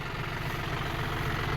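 Engine of a heavy 4-wheel tractor fitted with a large rotavator, idling as a steady, low, rough drone with constant vibration and no other sounds.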